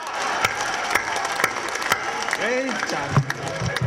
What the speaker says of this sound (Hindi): बात आपको समझ में आई हो तो आप ताली वाली आप ठोक सकते हैं